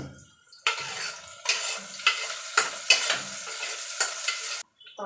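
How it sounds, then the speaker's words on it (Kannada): Onions in a pan fry with a bright sizzle, broken by a series of regular scraping stirs about every half second, close up, after a quiet start and without any voices. "ಸೊ ಇದು ಚೆನ್ನಾಗಿ ಫ್ರೈ ಮಾಡ್ಕೊಬೇಕು."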